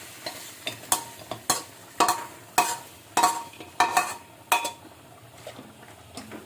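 A metal spatula scrapes and clanks against a wok while stirring chicken and coconut curry, in a steady rhythm, roughly every half second, with faint sizzling underneath.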